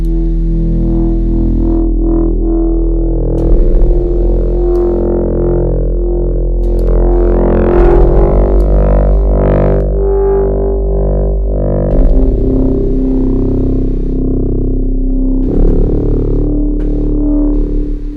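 A sustained FM power-synth tone from the VECTRA Delta Core with layered metallic harmonics, swelling and shifting in texture over a constant low drone.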